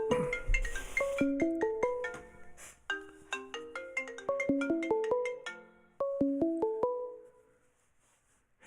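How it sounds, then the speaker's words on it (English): A phone ringtone for an incoming call plays a bright, repeating electronic melody of short plucked tones in quick bursts, clear and close, then fades out near the end with no talking. "just got a phone call from the granddaughter"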